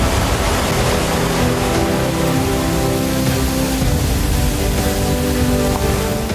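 A large forest waterfall with many streams cascading down roars as a loud, constant broadband rush of falling water, unbroken and close.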